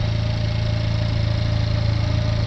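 A rebuilt Honda Civic Type R FK8 engine runs at a steady idle, a loud, even mechanical drone with constant low rumble and faint hiss throughout, no voices.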